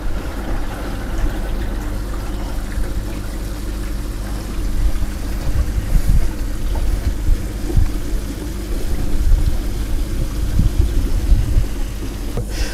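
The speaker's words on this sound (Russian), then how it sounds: "И начинаем процесс слива воды." Water gushes and gurgles steadily through a hose draining a travel trailer's tank, a continuous splashing drain with occasional sputters, close and fairly loud.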